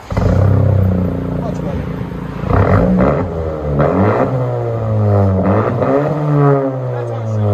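A straight-piped 6-speed manual turbo Camaro with the catalytic converter removed revs hard, its loud exhaust rising and falling in repeated sweeping pulls, with a person speaking briefly over it.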